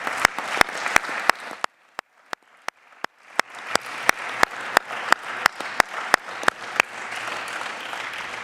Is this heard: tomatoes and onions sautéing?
no